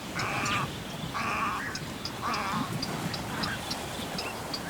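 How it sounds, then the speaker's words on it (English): Night heron nestlings on a river island in the Great Meadow of Ukraine give harsh, raspy calls in a loose series of about four squawks, close by over a constant outdoor background hiss. "The nestlings of the night herons designate their location with their own distinctive sounds."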